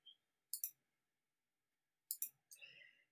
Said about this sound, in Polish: Klikam, klikam, klikam i zaraz wrzucę na czat.